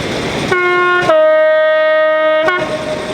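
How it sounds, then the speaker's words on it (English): A diesel freight train passes through a station on an unelectrified line, sounding a loud, sustained two-tone horn blast for about two seconds amid steady rolling rumble, with no one speaking. "Here we've got a freight train."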